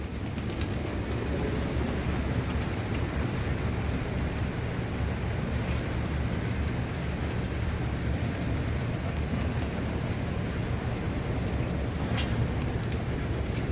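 Steady rain falls over a rooftop garden, a dense, even wash of patter that stays loud and constant throughout, with no voices.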